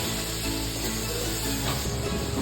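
Food sizzling in a hot pan while cooking pancit and other dishes for New Year's Eve, a steady loud frying hiss with small crackles and scraping stirs, no voices.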